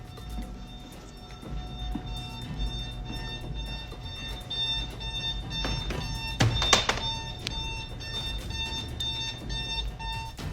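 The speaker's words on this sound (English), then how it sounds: "He arrives at work in the early morning and an alarm is wailing" An office alarm wails in the early morning, a steady tonal ringing that holds through the whole stretch, with a brief dull thump partway through and no voices.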